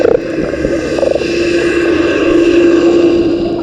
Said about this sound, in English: Here's the sound of a boat overhead.